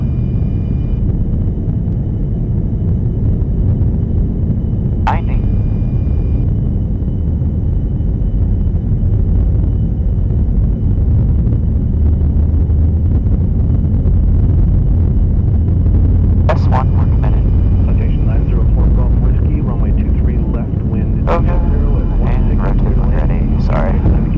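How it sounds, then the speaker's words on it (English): Jet engines of a USAF tanker aircraft at takeoff thrust make a constant heavy roar and rumble inside the cockpit, with crew voices talking over it. "Set takeoff thrust, and you can keep the throttles."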